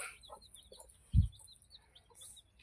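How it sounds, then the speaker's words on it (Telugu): Dyed chicken chicks in bright colours such as yellow, pink and green cheep and cluck faintly, with a few soft high peeps and one brief close thump, no voices. "బాగున్నాయి కదా కలర్స్ కోడి పిల్లలు"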